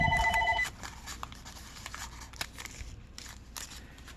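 A telephone rings with a few repeated electronic tones in the opening moment, then stops, leaving quiet room noise and faint handling sounds.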